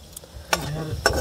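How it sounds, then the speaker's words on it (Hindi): Bay leaves sizzle softly in hot oil in a pan for a lentil and rajma tadka, cooked in a truck, with a couple of sharp scraping clinks of a spoon stirring, close and fairly quiet. "तेल हमारा देखिए गर्म हो गया है, तेजपत्ता डाल दिए हैं, इसको चला देते हैं"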